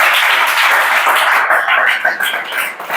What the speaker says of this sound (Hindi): ताली बजाओ वित्त आयोग के लिए